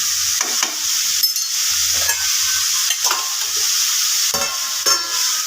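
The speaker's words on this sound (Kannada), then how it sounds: "ಸರಿ ಪರಿಮಳ ಬರುವ ತನಕ ಇದನ್ನು ಸ್ವಲ್ಪ ಹುರಿಬೇಕು ಎಣ್ಣೆಯಲ್ಲಿ" Onions sizzle in hot oil in a pan while being stirred, a steady fry broken by repeated scraping strokes of the spoon at close range.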